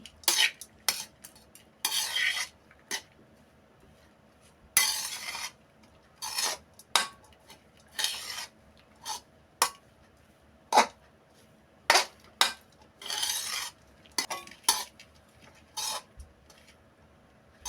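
Broad bean (chikkudukaya) rice being stirred and mixed in a pan, giving irregular scraping and rubbing strokes of a spoon against the metal, spaced apart with quiet gaps, fairly close and with no talk.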